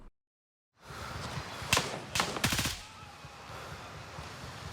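Gunfire in the tactical shooter Gray Zone Warfare: after a brief silence, a few sharp bursts of shots ring out close by, followed by lingering low rumble and ambient noise.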